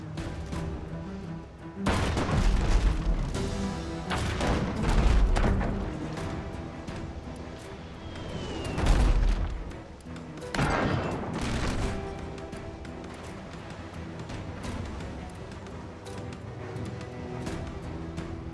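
Ship cannons in the naval video game Abandon Ship fire repeatedly, heavy booms and rumbling blasts arriving in irregular bursts over a steady background din, loud and sustained with no talk over them.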